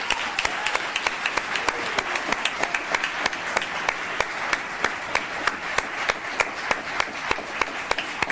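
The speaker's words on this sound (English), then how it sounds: "Let's give him a round of applause" Steady applause from an audience at a town council meeting, many hands clapping continuously with no voices over it.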